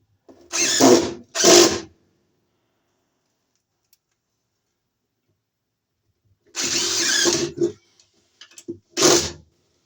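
Power drill driving a screw into a 4 inch square electrical box, heard as two short whirring bursts early, then a longer sustained run and a couple of brief bursts, close and loud with quiet gaps between.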